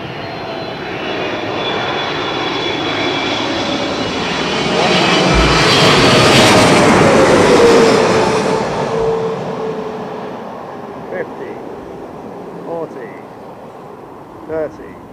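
An Emirates airliner lands at Heathrow, its engine roar building loud and close, peaking mid-clip and then fading, with a few short bursts of voices near the end.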